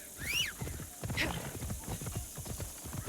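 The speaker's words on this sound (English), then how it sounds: "Alright, let's get our horse." Horse hooves clip-clop in a steady walking rhythm in the video game Assassin's Creed Shadows, fairly quiet and close, with a brief whinny-like call near the start.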